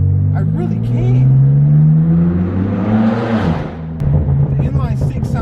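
Straight-piped BMW M4 F82 with an inline six, exhaust revving loud and close: a deep rising drone climbing in pitch, a crackling peak, then a sharp pop and a burbling drop back to idle, with a voice talking underneath.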